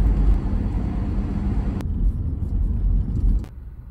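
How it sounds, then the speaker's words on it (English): A car driving along a road in southeastern Tasmania, heading south toward the Bruny Island ferry: a steady, loud low rumble of engine and tyre noise from inside, with two brief clicks breaking it. "driving down south to try and catch the ferry."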